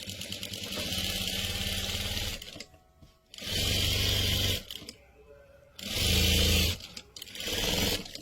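A sewing machine stitches a neckline on paste paper, running in loud, steady bursts separated by short pauses, close to the listener.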